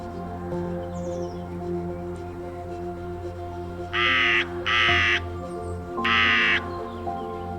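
A crow in a large Vienna cemetery gives three loud, harsh caws close by, spaced about a second apart, over a steady low background hum.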